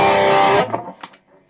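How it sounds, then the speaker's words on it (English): An electric guitar chord through an MXR Super Badass Distortion pedal, loud and thick with sustain, cut off after about half a second, followed by a few faint string noises. "this is the MXR Super Badass Distortion by itself."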